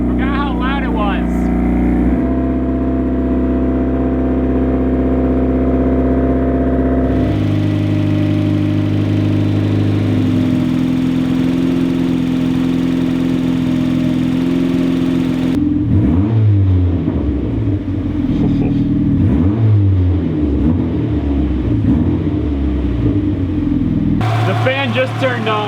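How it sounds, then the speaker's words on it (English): A turbocharged Mazda Miata engine, fitted with a new fan shroud and dual-core radiator, runs steadily while warming up. It is loud and close, with a droning tone that shifts in pitch several times as the idle changes. "I'm gonna go ahead and turn on the car, let it warm up, let the thermostat open"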